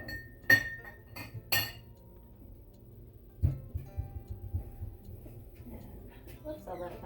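A drinking glass is set down and clinks sharply a couple of times in a kitchen while lemonade is being made, with quieter handling knocks and clatter following.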